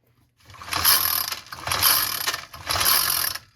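Three pulls of the recoil starter on a Troy-Bilt TB516EC four-cycle walk-behind edger, each a rattling, whirring mechanical rasp of about a second, close and fairly loud, with short pauses between them.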